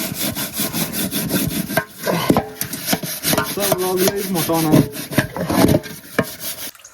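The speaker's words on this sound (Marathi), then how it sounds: "त्याच्यामुळे टोप घासतोय." A soot-blackened cooking pot is scrubbed hard outdoors, a loud, continuous rasping and scraping with rhythmic strokes and no talk.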